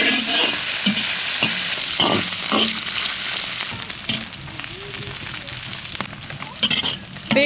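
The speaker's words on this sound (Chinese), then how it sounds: "锅里不倒油，先炒肥肉。" Fatty pork stir-fried in a dry wok with no oil added, giving a steady close sizzle and frying crackle throughout, broken by repeated scraping and clanking strokes of a spatula against the wok.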